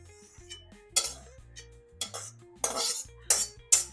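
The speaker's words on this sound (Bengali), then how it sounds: "আমার পুরটা তৈরি হয়ে গেছে এবার আমি নামিয়ে নেবো আমি পুরটা এবার ঢেলে নিচ্ছি" Cooked filling is scraped and poured out of a pan, heard as a series of close metallic clinks, utensil taps and scraping bursts against the pan.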